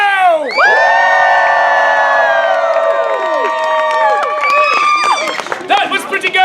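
A theatre audience at a Shakespeare performance of The Tempest cheers, whoops and shouts together, loud and close, starting with a sharp burst and holding a long sustained roar before breaking into scattered yells.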